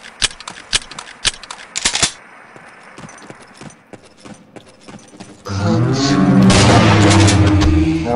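Gunshots in the horror video game They Hunger crack out in a rapid string of sharp, loud reports for about two seconds, then sparser single blasts, before a dense, loud burst of game noise swells at the end.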